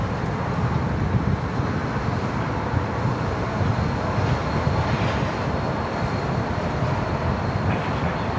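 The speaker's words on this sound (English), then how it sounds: "What we're looking at there is our next Qantas A330 departure." A Qantas A330 airliner bound for Hong Kong departs Sydney Airport, its engines making a loud, steady broadband roar that holds throughout without a break.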